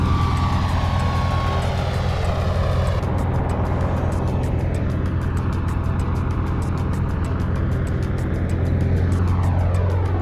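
A loud, steady propeller aircraft engine drone in Microsoft Flight Simulator with a pulsing beat, its pitch sliding down and back up as the engine note shifts with prop pitch changes.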